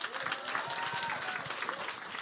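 Audience applause for a panel discussion, a steady, dense wash of clapping from a crowd that holds at an even level for a couple of seconds.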